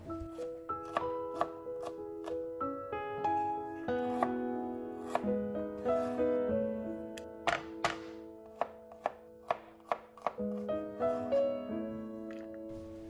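A knife chops scallion, ginger and garlic on a cutting board in a rapid run of sharp, close taps, while soft melodic music plays underneath.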